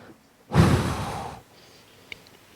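A voice imitates gusting wind with a single breathy whoosh lasting about a second, close and fairly loud, followed by quiet.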